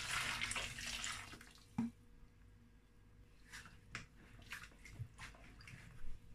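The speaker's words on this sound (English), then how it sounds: "So this is how I wash my cow foot. I pour hot water on it." Hot water poured over a cow foot in a kitchen while preparing ogbono soup, a brief splashing pour at the start followed by faint drips and light clatter.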